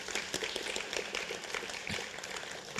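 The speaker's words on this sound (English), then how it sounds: "So let's give them a round of applause." Audience applause at a radiography pinning ceremony for health professions graduates, honoring their families: steady, dense clapping from a hall crowd, sustained evenly for a few seconds.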